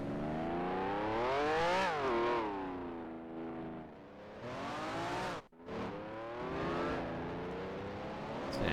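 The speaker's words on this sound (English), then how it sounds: "Oh, I hear a Honda, I think." Engine of a Honda race car in the Grand Prix Legends racing sim, revving and shifting with rising and falling pitch, loud and close, with a sharp dip around one gear change.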